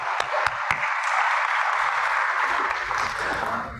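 A church congregation applauds its volunteers during Sunday worship, a short burst of steady crowd clapping with a few sharp individual claps at the start and low murmuring underneath toward the end.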